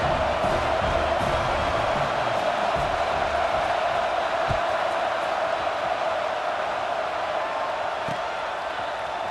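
Large stadium crowd in a college football video game roars steadily before a kickoff, a dense, constant wash of cheering voices with a few thumps, loud throughout.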